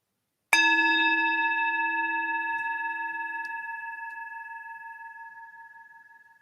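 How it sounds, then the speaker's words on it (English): A single meditation bell is struck once, its clear ringing tone hanging and slowly fading over several seconds in an otherwise quiet room. "When you hear the next bell, use this bell to draw a few deep breaths in."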